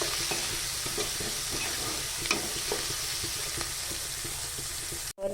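Chana dal sautés in a pan with a soft continuous sizzle and light stirring scrapes and taps, close and even, with a brief dropout near the end and no speech.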